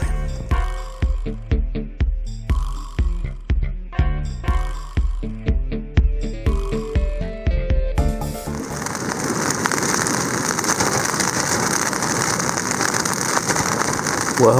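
Rain falling on Lac Manicouagan during a lake paddling trip, heard as a steady, dense hiss across the second half of the clip, following a first half of regular rhythmic clicking pulses.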